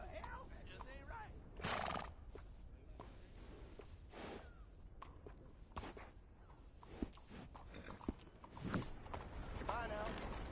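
A horse in Red Dead Redemption 2 whinnies and snorts while hooves clip-clop, with creaking tack and people talking throughout, the neighs rising in loud bursts.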